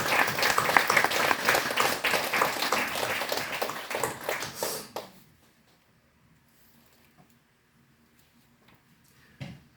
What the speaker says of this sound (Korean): 지금 우리 박수를 한번 올려드리겠습니다